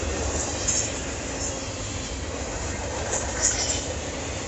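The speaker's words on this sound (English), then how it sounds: "But yeah, this one is a stack train." A freight stack train rolling past close by, a loud steady rumble of wheels and cars with faint squeals and clatter throughout.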